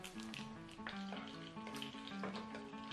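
Shrimp rolls wrapped in bean curd sheets pan-fry over moderate heat with a soft, continuous sizzle and light crackle. The sound is faint and steady, with a background hum underneath.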